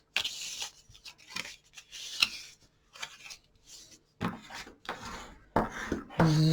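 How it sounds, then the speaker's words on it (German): Stiff card paper for a pop-up panel card folded and firmly creased along diagonal score lines, close dry rubbing and crinkling strokes in separate bursts with short pauses between them. "klappe die beiden diagonalen Falzlinien einmal um und falte sie auch kräftig nach"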